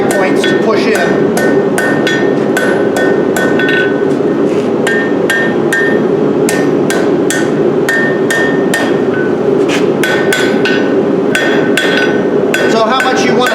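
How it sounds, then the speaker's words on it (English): Steady, loud blacksmith hammer blows ring on an anvil as hot steel for a ball-ended leaf hook is turned and shaped, a rapid even rhythm of close metallic strikes running throughout. "getting into that groove of hitting and revolving this, bringing it up on the anvil, identifying the high points to push in"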